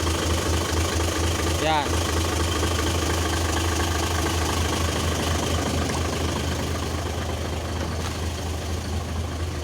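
A Mitsubishi Fuso 6M70 truck diesel engine idles close by with a steady low rumble and a misfire fault, while someone speaks briefly.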